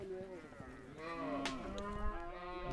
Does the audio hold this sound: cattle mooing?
yes